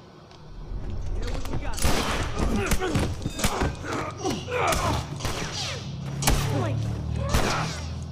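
Gunfire in The Last of Us Remastered, bursts of shots and thuds cracking out through a busy stretch of gameplay, dense and fairly loud, with a person talking over much of it.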